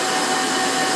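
Daewoo Puma 400B CNC lathe from 2003, spindle turning at 500 RPM, giving a steady, even broadband whir with a faint tonal line, close and continuous with no talk.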